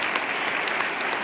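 An audience at a talk on brain and violence claps steadily, a dense even patter of applause lasting the whole moment with no speech over it.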